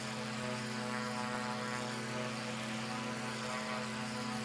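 A propeller plane's engine drones steadily in a flight video game, a constant tonal hum holding at even loudness with no talk over it.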